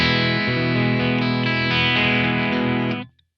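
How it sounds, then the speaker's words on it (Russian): Electric guitar through a Blackstar ID:Core 40 V4 modelling combo amp with effects, its nominally clean tone slightly breaking up, a sustained strummed chord ringing with chorus-like shimmer for about three seconds, then cut off. "То есть, ну вот, чистый звук усилителя."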